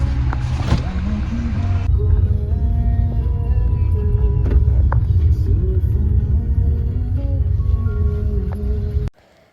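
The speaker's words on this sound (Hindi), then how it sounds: "चलो तो गाइस फाइनली हम गाड़ी में बैठ गए हैं और बस घर से निकल रहे हैं।" A car pulls away from home, heard from inside the cabin as a steady low engine and road rumble that holds evenly throughout and drops away abruptly at the very end.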